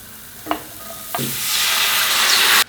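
Cubed zucchini dropped into hot oil in a pan, with a couple of sharp clattering hits and then a steady, loud sizzle that swells and holds until it cuts off abruptly.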